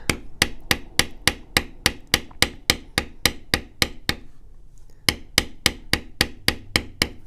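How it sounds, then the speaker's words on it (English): Regular, sharp taps of a maul striking a metal leather bevel tool, about three per second in two runs separated by a brief pause, crisp and close with no talk. "how far we're moving our bevel in between strikes of that maul"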